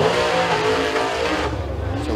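A Super Late Model race car on a timed qualifying lap at Eriez Speedway, its engine roaring loud and steady at high revs throughout, with a slight dip in pitch near the end.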